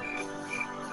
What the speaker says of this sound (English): can you turn off the crickets?